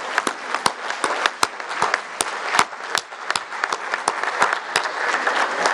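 Sustained audience applause honoring mothers at the launch of a school programme in Puebla, a dense wash of many hands clapping with sharp individual claps standing out, steady and fairly near throughout.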